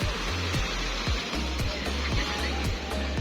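Sea waves washing around a boat, a loud continuous rushing wash with rhythmic low thuds, likely an engine or hull knocking, steady and close throughout.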